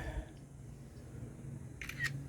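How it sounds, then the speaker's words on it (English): A camera shutter clicks twice in quick succession, close and crisp, over a low steady hum near a Trane air conditioning unit outdoors. "Take a quick picture to show the customer."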